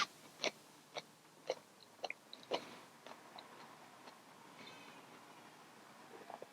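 Crunchy bites and chewing on a Scarlet Rose hot pepper, a squat, round, smooth Capsicum chinense, with about half a dozen sharp close crunches in the first three seconds, then softer chewing.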